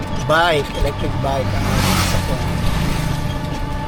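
Several vehicles and electric bikes pass along a road on the way to a farm in Guagua, Pampanga, a steady broadband traffic rumble with a brief rising engine note near the start and a voice talking over it.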